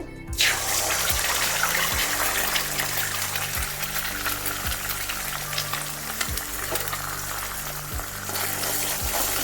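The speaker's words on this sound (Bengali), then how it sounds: "ঝুড়ি যেমন ডিম ভাজে সেইভাবে ডিম ভাজা করে নেব" Egg frying in a kadai wok with a pinch of salt, a steady loud sizzle broken by regular scraping strokes as it is stirred continuously into scrambled shreds.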